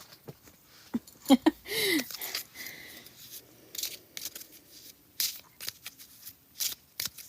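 A Lenormand card deck being handled and shuffled, with quick riffling bursts and scattered taps and slides of cards, close and fairly quiet.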